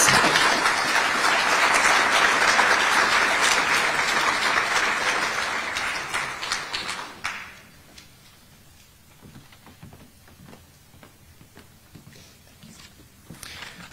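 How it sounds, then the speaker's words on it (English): An audience at a Holocaust remembrance evening in Cranford, New Jersey, claps loudly and densely for about seven seconds, then the applause fades to scattered claps and quiet room noise. "Can we please just give another round of applause for all of our participants here this evening?"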